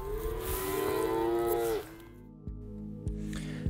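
Calves crying in a large dairy barn, one loud, drawn-out moo close by, then quieter stretches broken by a few sharp knocks and clanks from the pens.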